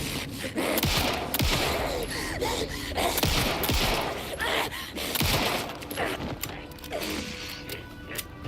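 Gunfire in the horror video game Alan Wake 2, a few sharp shots cutting through a dense, noisy backdrop of creaking, mechanical game ambience, fairly loud and close throughout.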